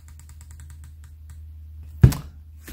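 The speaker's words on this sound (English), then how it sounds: "Nice tactile turret adjustments." A DiscoveryOpt rifle scope turret is turned, giving a quick run of small, crisp, close clicks, followed by a louder knock and a final click.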